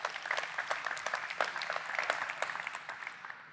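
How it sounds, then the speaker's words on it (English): An audience at a business training event applauds, a dense patter of clapping that holds steady and then fades toward the end. "Big round of applause for Franny and Mandeep, everyone."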